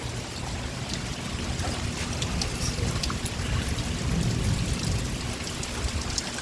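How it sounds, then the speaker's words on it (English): Steady light rain falling outside a house, a soft continuous patter and hiss at moderate level with no voices. "Yeah, it's getting some rain here."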